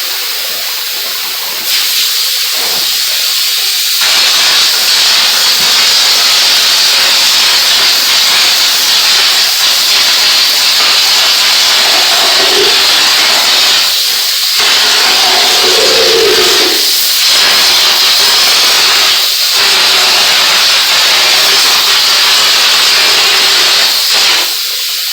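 Compressed air hisses hard and loud from the hose of a drywall texture sprayer, a harsh continuous rush broken by a few short pauses and dips.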